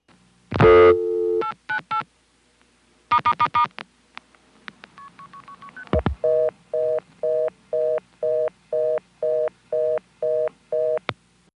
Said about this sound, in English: I was curious as to what would happen if I dialed 898 and then pressed the star key 4 times.